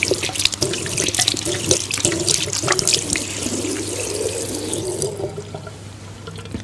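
Running tap water streams steadily into a basin as hands are washed during wudu, with splashes and rubbing breaking up the flow, close and fairly loud, then thinning toward the end.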